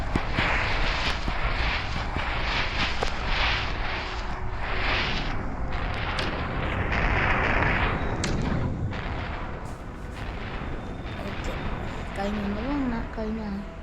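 Explosions and artillery-like blasts boom continuously from an aircraft bombing run in a video game, with engine drone and heavy rumble throughout and a voice talking over parts of it.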